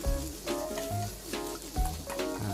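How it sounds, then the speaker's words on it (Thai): Napa cabbage is stir-fried with egg in a hot pan, giving a steady close sizzle with rhythmic scraping and tossing as it is stirred. "ตอนนี้เราก็ ผัดไปนะครับคลุกเคล้าไป ให้ ตัวผักกาดขาวเนี่ยนิ่มตัวลงนะครับ"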